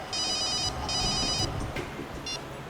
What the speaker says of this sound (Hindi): सर अभिजीत सर का फोन था